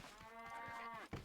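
A cow in the Scrap Mechanic game lets out a single faint, nasal moo that lasts about a second, sounding distant and hurt, followed by a brief muffled thump.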